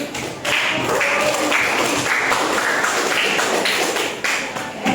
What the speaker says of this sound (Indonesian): Tepuk tangan untuk kelompoknya Faizul.